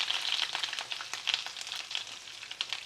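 Keto schnitzel cutlets fry in a pan with a close, continuous hiss and fine crackle, browning at the edges.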